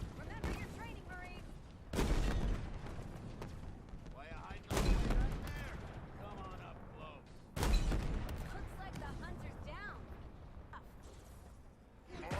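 In the video game Halo Infinite, a tank fires on hunters, giving three heavy booming shots a few seconds apart over continuous battle noise, with a voice speaking throughout.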